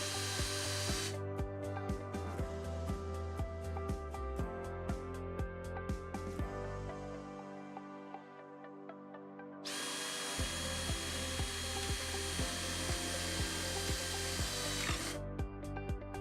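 Power drill pre-drilling fixing holes for a door dam floor threshold seal, with a loud sustained motor whine, a brief pause, then a second long burst of drilling.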